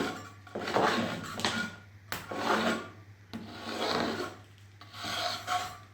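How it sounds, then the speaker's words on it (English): Rough, rasping sanding strokes along the edge of a repaired wall surface during mold repair, four long scraping passes in a steady rhythm, close and fairly loud over a low constant hum. "just sand up the very edge there, and that should be good"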